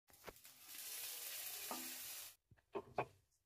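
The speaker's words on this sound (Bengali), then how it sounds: "এই চালটাকে ভালো করে এই মশলাটার সঙ্গে ভালো করে অল্প ভেজে নিতে হবে।" Washed rice stir-fried with whole spices in a pan for jeera rice crackles in a loud, close sizzle for about two seconds, then stops, followed by a few short scraping stirs.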